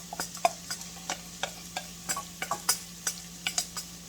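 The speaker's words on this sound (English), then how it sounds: "The butter is getting nice and hot here. Butter with the olive oil. We're going to start the onion." Onion frying in hot butter and olive oil, a soft steady sizzle under a close, regular series of stirring scrapes and taps, with no talk.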